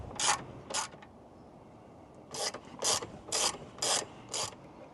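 A hand ratchet clicks in short bursts while tightening saddlebag guard bolts on a 2025 Harley-Davidson Low Rider ST, two quick strokes then a run of five evenly spaced rasping cranks, close and crisp, no talking.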